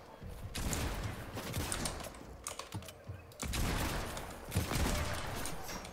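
Gunfire in a first-person shooter game arrives as two long, fairly faint volleys of rapid shots, with brief scattered pops between the bursts.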